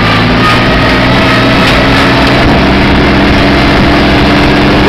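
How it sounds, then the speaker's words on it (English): A John Deere tractor engine idles nearby, a loud, steady low chug and rumble that holds an even pace throughout with no talking over it. "This tractor is on."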